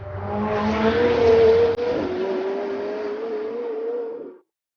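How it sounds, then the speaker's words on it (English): A 2017 McLaren 720S engine revs hard and close, its sharp rising howl briefly dipping as gears shift, then holding a strained tone before cutting off abruptly. "I think the McLaren 720S has the best McLaren sound so far"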